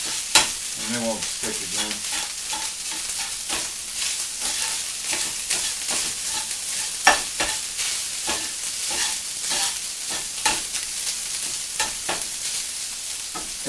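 Rice stirred in hot oil in a pan, broken-up clumps scraping and sizzling steadily with frequent spoon clatters; a voice speaks briefly near the start.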